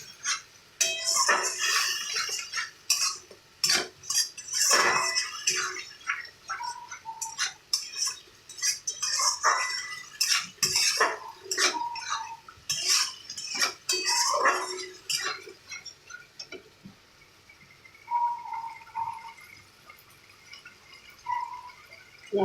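Pointed gourd paste stirred in a pan with a little water, giving repeated close scraping and clinking strokes of a utensil against the pan, dense at first and thinning out toward the end, with no talk.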